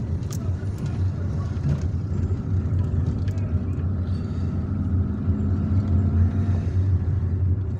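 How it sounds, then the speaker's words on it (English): A car drives along a main street in Kouba, Algiers, its steady low road rumble and engine drone continuing throughout, with faint traffic noises and light clicks on top. "So now I am driving on one of the main streets that link Kouba to Vieux Kouba, to Old Kouba."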